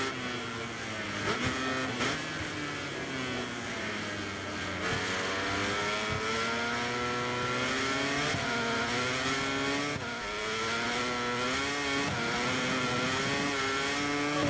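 Honda MotoGP bike racing in the MotoGP 24 video game, a loud, continuous high-pitched engine whine that climbs and falls with repeated gear shifts and revving, with a brief voice in the background.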